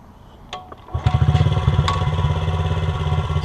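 A Honda CRF50 stunt-bike build's small engine catches after a brief clatter, then settles into a close, fast, even putter that carries on to the end.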